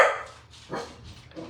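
A pet dog barks during a live stream at home, a couple of short, muffled woofs at moderate distance with no talk over them.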